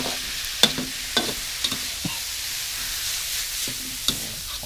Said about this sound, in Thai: ผมเริ่มต้องผัดเข้าเลย